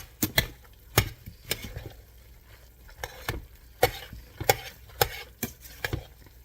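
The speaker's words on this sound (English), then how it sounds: "now I'm just going to stir this up really good" Cajun sausage with rice being stirred in a pan: a series of sharp spoon knocks and scrapes at irregular intervals, close and fairly quiet, with a soft background sizzle and no speech.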